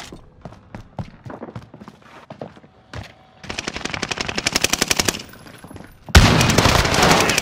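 Light machine gun fire in a video game shooter: scattered single shots first, then long rapid sustained bursts, loud and close, ending in a dense heavy volley.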